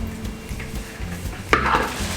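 A mixing bowl is grabbed and rinsed out in a kitchen while coleslaw is being prepared: soft clunks and light clattering of dishware, then a brief sharp knock followed by a rush of splashing water.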